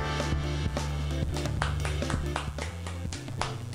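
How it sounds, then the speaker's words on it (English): The Twitch level 1 cheer effect plays as a single person clapping: a quiet, steady series of separate hand claps at an even pace. "we've got a single person clapping"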